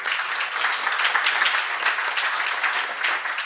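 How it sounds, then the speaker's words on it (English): Audience applause for conference speakers, a steady dense patter of many hands clapping at an even level throughout, with no voices over it. "give a round of applause to our speakers"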